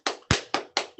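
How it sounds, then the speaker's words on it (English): Short bursts of audience clapping at a disability service awards ceremony, five loud, evenly spaced broadband claps in about one second, close and without talk. "let's get some claps one more time for all of our honorees this evening"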